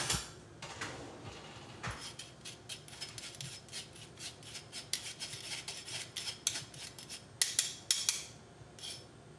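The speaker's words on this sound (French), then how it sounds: "je vais attraper une cuillère" A spoon is picked out from among cutlery in a home kitchen, giving soft metallic scrapes and light clinks that grow more frequent toward the end, close and fairly quiet.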